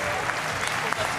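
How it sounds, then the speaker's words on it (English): Audience applause at an esports tournament stage during a CS:GO major grand final at DreamHack Winter 2014, a steady dense wash of clapping filling the whole moment with faint crowd noise mixed in. "Round of applause to these guys."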